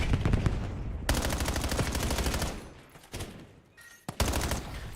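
Rapid automatic gunfire from an M15 rifle in Call of Duty Black Ops 7, loud sustained bursts with short gaps between volleys and a sharp explosion-like crack near the end.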